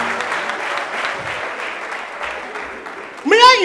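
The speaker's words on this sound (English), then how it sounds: "Please, let's give him a round of applause" A comedy show audience claps in a steady, moderately loud round of applause that fades slightly, then a burst of laughter or cheering rises at the end.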